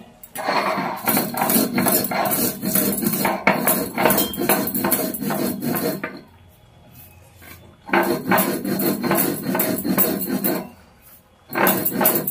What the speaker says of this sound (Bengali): শুকনো খোলায় যে মশলাটা ভেজে রেখেছিলাম, এবার শুকনো পাটায় বেটে নেব।